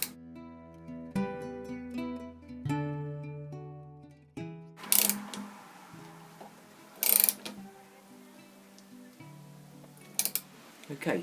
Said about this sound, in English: just fitting the front mounting bolt